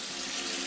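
Hot water pours from a tap into a Nesco high pressure canner holding filled jars, a brief steady rushing splash with no pauses or voices.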